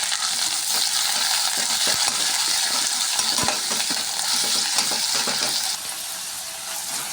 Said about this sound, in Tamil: வெங்காயம் ஆட் பண்ணிக்கலாம், அதோட பூண்டு கூட நம்ம ஆட் பண்ணிக்கலாம். லைட்டாக இதை வதக்கி விட்டுக்கலாம்.